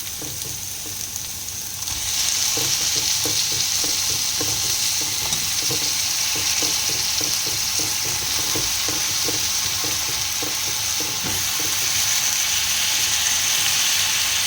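Eggplant pieces frying with onions in a pan for masala curry sizzle loudly and steadily, with rhythmic scraping and stirring clicks running through the middle of the clip.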